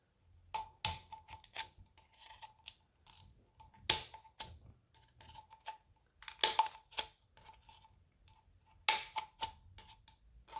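Scissors snip through paper flower stem material in quiet, irregular bursts of sharp clicks and cuts separated by brief pauses, close and crisp against near silence.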